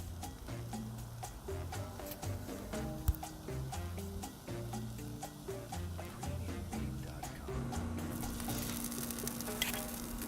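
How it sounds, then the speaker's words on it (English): Blood sausage, morcilla, cooks on a Blackstone griddle with a steady close sizzle, and a regular ticking runs through it, loud and even without speech. "blood sausage is down, and these do not take that long to cook"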